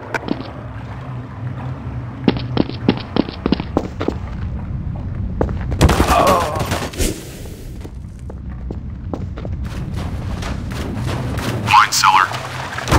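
Gunfire in the Counter-Strike Source game: scattered sharp shots and a short burst, with thuds and louder impacts mixed in, and voices talking over the action.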